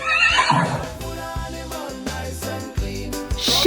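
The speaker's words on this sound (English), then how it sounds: "Horse say." A high whinny opens, with another faint neigh at the close, from a horse heard over steady upbeat music.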